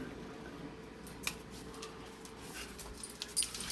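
Dogs out on a walk at 3 a.m., with faint jingling and scratchy clicks, soft panting and a small whimper over a low steady background hum.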